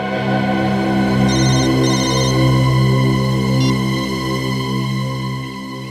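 A phone ringtone plays in a tense crime-drama scene, a steady repeating electronic melody heard close and loud over a low background hum, with no talk.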